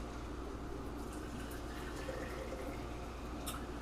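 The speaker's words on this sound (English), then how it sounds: "I'm just going to pour this into a container," A medicinal herbal beverage is poured into a glass mug, a steady, faint trickle of liquid running continuously without pause and with no talk.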